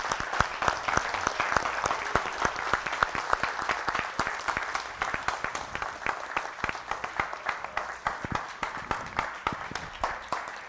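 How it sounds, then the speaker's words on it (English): Hand clapping from an audience at a sermon-style gathering, many distinct claps in a fairly regular rhythm, close and crisp, gradually thinning slightly but continuing throughout. "Give Mr. Yahuwah a hand clap."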